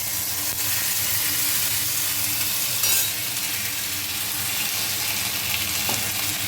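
Ginger paste, chili powder and bay leaf fry in hot oil in a pan, making a loud, constant close sizzle with a faint clink or two of a stirring utensil.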